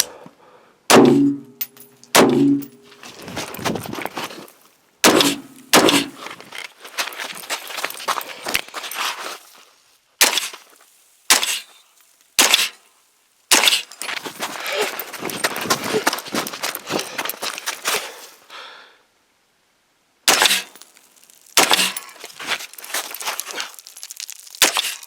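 AR pistol fitted with a low-power variable optic firing at steel targets at short range: sharp, loud shots and metallic clangs in quick strings, separated by brief pauses.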